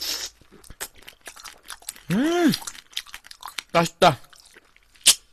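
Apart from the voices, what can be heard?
crunchy eating of soy-marinated shrimp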